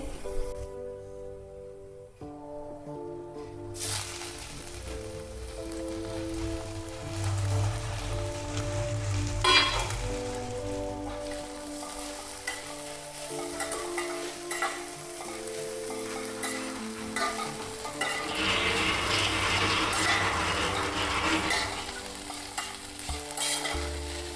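Wild leafy greens hit a hot pan and fry with a steady sizzle, stirred with scraping strokes throughout; close, continuous and fairly loud, with no talking.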